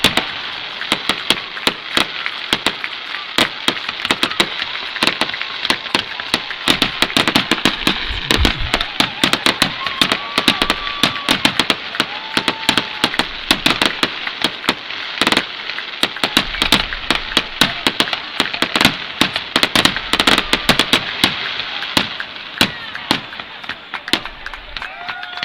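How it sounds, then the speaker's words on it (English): Fireworks show at a high school homecoming football game halftime, building to a grand finale: dense, continuous crackling and popping bursts with booming low thuds, steady and loud across the whole stretch. "Great fireworks show at halftime."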